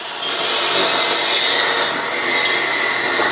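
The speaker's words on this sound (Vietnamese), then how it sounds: "Cưa được một miếng tre rất là vất vả." A hand saw cuts through a piece of bamboo in a loud, steady rasping drone with the gritty scrape of teeth on woody fibre, close up and without pause, no voices over it.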